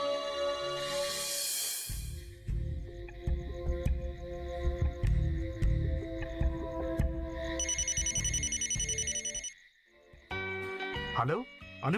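A telephone rings with a shrill repeated electronic tone, loud and close, over a steady background of music and other sounds, then stops abruptly.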